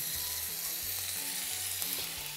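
Small pieces of beef sizzle in a frying pan with a constant crackling hiss at moderate volume, and a soft low tone runs beneath it.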